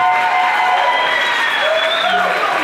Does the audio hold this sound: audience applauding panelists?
yes